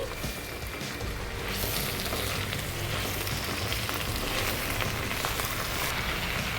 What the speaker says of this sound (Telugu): ఇప్పుడు ఇందులోకి క్లీన్ చేసి పెట్టుకున్న గోంగూర వేసేసుకుందాం గోంగూర కలుపుకుందామండి